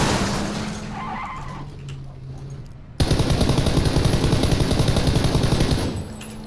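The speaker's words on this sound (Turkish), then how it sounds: "sesler geliyor, çatışma sesleri" Bursts of rapid gunfire from PUBG, a lighter exchange at first, then a sustained dense barrage of automatic fire for several seconds.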